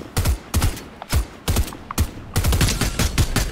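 Rapid gunfire from the video game Fortnite, a series of loud, close bursts of shots with short gaps between them, growing into near-continuous firing toward the end.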